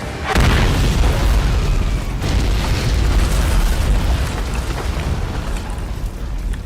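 A large explosion in a city street in the Daredevil TV series, a sudden loud boom followed by a long roaring rumble and scattered debris crackle that fills several seconds.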